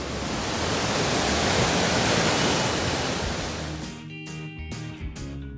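Rushing water at the Batu Berangkai waterfall, a steady broadband roar that fills the scene before easing and giving way to quieter, choppier sounds near the end.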